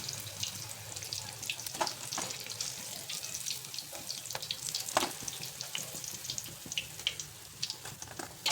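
Paneer frying crisply in hot oil, a steady close sizzle with scattered sharp crackles and pops throughout, fairly quiet and with no talking.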